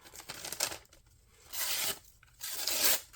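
Paper magazine being sliced by a sharp knife, the Malibu, heard as two loud, rasping tearing strokes with a quieter one before them, close by with no talking.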